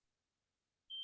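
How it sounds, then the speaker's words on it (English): After near silence, a fire alarm lets out a single sharp, high, steady electronic beep that starts abruptly and carries on loudly to the end. "George, Brandy, and I took down the stairs because of George pulling the fire alarm"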